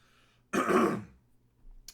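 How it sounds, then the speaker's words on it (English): A host on a live stream clears his throat once, a short rough burst of about half a second that sits close and loud against near silence. "Pardon me for coughing on air."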